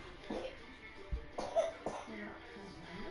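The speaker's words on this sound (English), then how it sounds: "He's only just starting coughing" A young boy coughs a few times indoors, short harsh bursts spaced across the moment with adult speech murmuring in the background.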